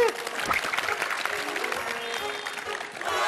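Audience applause after a classic Chinese cups-and-balls magic trick on a stage show, a dense burst of clapping throughout, fairly loud and steady from a crowd.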